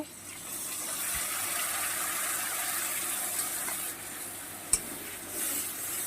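Ground turmeric, cumin, coriander and chili powder simmer with a little water in a pan, a soft continuous sizzle and bubbling hiss with a couple of sharp utensil knocks.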